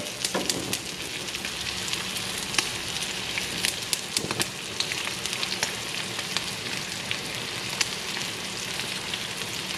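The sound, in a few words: potatoes frying and sizzling in a pan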